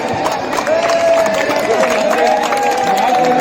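Crowd at a disaster management mock drill making a steady din of clapping mixed with cheers and shouting voices, loud and close, with no pauses.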